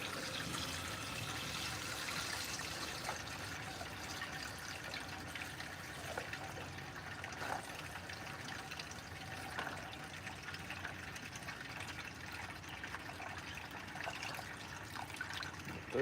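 Liquid poured into a vehicle in a garage, a steady trickling, gurgling flow running continuously at moderate distance with no talk.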